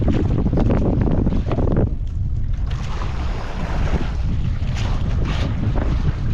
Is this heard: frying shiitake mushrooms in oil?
no